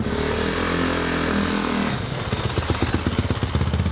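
A dirt bike engine sputters and falters, its steady drone breaking into rough, uneven chugging pulses as it stalls, loud and fairly close, no talking.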